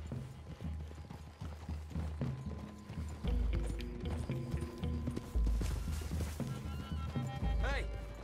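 Horse hooves clip-clop steadily through a forest clearing in the Red Dead Redemption 2 video game, mid-distance, beneath talking voices and game music, with a brief whinny near the end.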